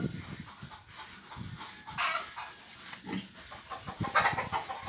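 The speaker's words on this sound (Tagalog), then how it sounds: "Ang lalaki ng mga baboy dito." Pigs on a Philippine farm grunt and snort in short, irregular bursts, with a rooster-like call and other farmyard animal noises mixed in, moderately close and without speech.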